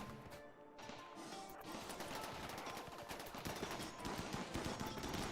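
Automated turrets in RimWorld on sea ice fire rapid, dense bursts of gunfire that build in intensity over several seconds, a continuous crackling fusillade with no talk.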